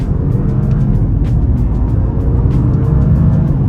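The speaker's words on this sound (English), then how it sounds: "we'll try an acceleration off the line in dynamic mode" A 2023 Audi Q7 55 Premium Plus in dynamic mode pulls away hard from a complete stop, with a steady, loud engine and road roar that swells evenly throughout and no voices over it.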